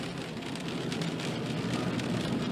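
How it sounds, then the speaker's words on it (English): Rain drums steadily on a car moving along a road at night, a dense continuous patter and hiss mixed with low road and engine rumble, no voices. "Raining pretty good."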